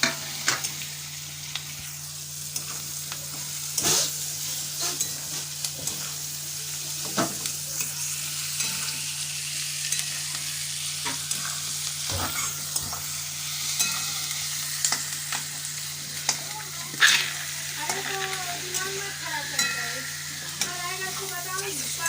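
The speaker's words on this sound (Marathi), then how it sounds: "आता मी बटाटा टाकते उकडलेला।" Boiled potatoes frying in a pan for aloo methi, a steady soft sizzle broken by scraping stirs and clinks, with a low constant hum beneath and a voice speaking briefly near the end.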